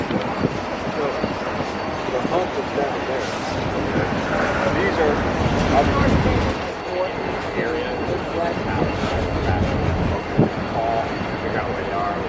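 A freight yard locomotive backs into a rail yard, a low rumbling of engine and railcars rolling past outdoors, with wind buffeting the microphone and occasional squeals and clanks.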